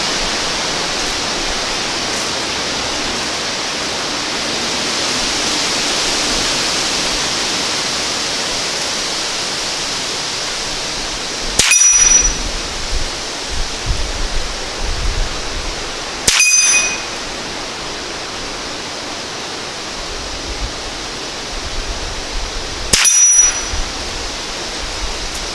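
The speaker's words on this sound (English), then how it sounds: "So we'll take 3 more shots." Three sharp cracks come from a Ruger 10/22 rifle fired after its front sight was replaced. The shots are spaced several seconds apart over steady outdoor background noise, with no speech.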